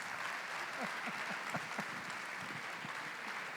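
Steady applause from an audience at a live talk, a dense continuous patter of many hands clapping at moderate distance, with no voices over it.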